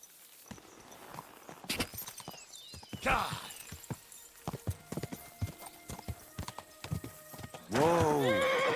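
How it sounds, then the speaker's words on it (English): Hooves clip-clop in a steady walking rhythm from a horse in Kingdom Come Deliverance 2, with loud whinnies near the start and a big neigh at the end, while someone talks over parts of it. "My, what a beautiful horse!"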